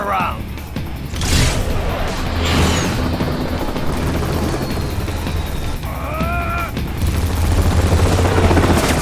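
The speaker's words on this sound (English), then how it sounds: "All right, bring the chopper around." A helicopter arrives in the video game Metal Gear Rising amid dense in-game action, with rotor noise, blasts and crashes layered together and a voice speaking over the loud mix.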